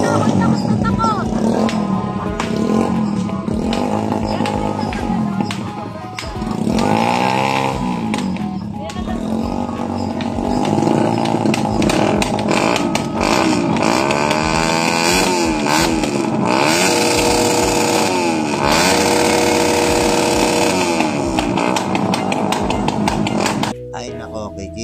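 Motorcycle engines rev repeatedly and loudly in rising and falling whines, with voices shouting and talking over the constant engine noise.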